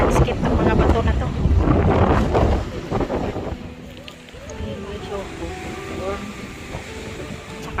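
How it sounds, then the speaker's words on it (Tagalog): Gusty wind buffets the microphone on a seaside walk at a nature reserve, a loud rumble that eases halfway through, with people talking underneath. "Maganda ang panahon kaso mahangin dito sa tabing dagat."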